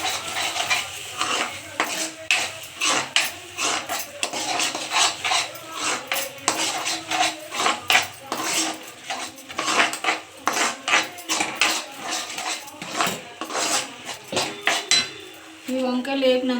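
A spoon stirs and scrapes a brinjal curry in a metal pan with ginger-garlic paste, producing repeated rhythmic clinks and scrapes up close, with faint talk now and then.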